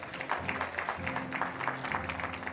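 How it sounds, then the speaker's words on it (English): Audience applause at a staff awards ceremony, a soft, steady wash of many clapping hands heard from a distance, with a faint low tonal hum running underneath. "Please give her a round of applause."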